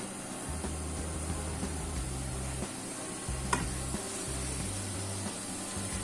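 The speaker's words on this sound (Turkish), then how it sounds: "Tenceremiz ısındı. Etlerimizi hemen atalım." Steady hissing sizzle of meat searing in a hot pot for maqluba, with scraping stirs and a few clanks, close and continuous with no talking.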